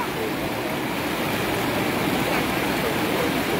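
Steady rushing water flowing close by, a continuous broadband wash with no breaks.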